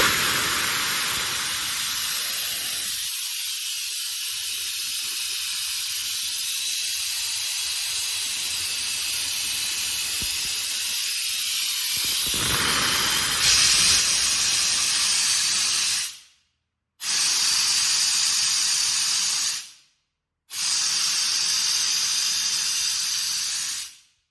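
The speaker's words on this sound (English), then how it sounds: "I will release some pressure from the air receiver" Compressed air blasts out of the air receiver on a KAESER screw compressor, a loud steady hiss that holds for over fifteen seconds, then cuts in three short bursts separated by brief silences.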